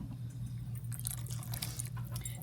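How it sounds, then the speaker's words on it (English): Water trickles and drips softly into a pot of Egyptian koshari, a quiet close-up pour over low background hum. "I'm just gonna add a little bit more water"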